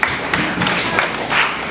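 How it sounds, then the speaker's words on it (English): A church congregation clapping in praise, a loud, continuous spread of many hands clapping with slight surges, close and steady with no talk over it. "Can we give Jesus a clap of praise?"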